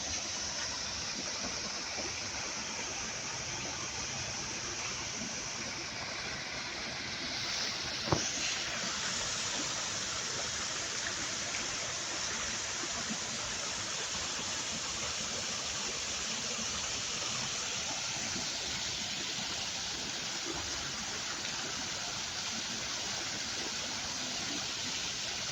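Small waterfall at Sentosa Nature Discovery in Singapore, a steady broadband rush of falling water that holds constant and close throughout, with one brief sharp knock partway through and no talking.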